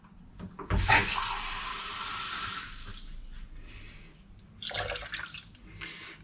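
Half a glass of water is poured over sugar and vanilla sugar in a pan for a syrup, a close splashing pour that fades into a quieter trickle, followed by a second short burst of pouring.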